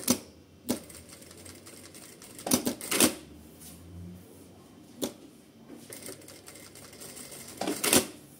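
A Sun Special electronic straight-stitch sewing machine makes quiet, intermittent bursts of clattering stitching, with sharp mechanical clicks spread through the clip and soft whirring between them, close by and without talking.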